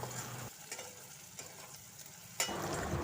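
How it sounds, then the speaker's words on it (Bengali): Onions sizzle quietly in a pan while cooking a bacha fish dish, a soft crackling hiss that drops away for a stretch, then returns sharply and keeps frying. "তো কথা বলতে বলতে পেঁয়াজ ভাজা হয়ে গেছে"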